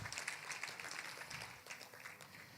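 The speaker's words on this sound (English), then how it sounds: "Can we give one more round of applause for Deji Ige?" Audience applause at the SCALE Legacy Summit 2024, a steady wash of clapping from a mid-sized crowd that holds for a few seconds at moderate distance, with no speech over it.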